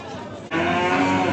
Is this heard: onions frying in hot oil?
no